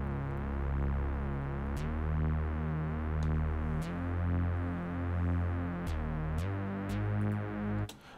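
Analog-style synth bass line for an Afro House track made in FL Studio, pulsing in a steady repeating pattern of deep rounded notes that shift pitch every couple of seconds, alone and moderately loud.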